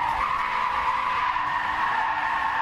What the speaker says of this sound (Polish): w tle słychać tam driftujące BM-ki